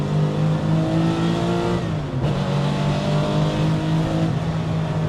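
A race car engine roars loud and steady at high revs near 8,000 RPM, dipping briefly as it shifts gear, then climbing again.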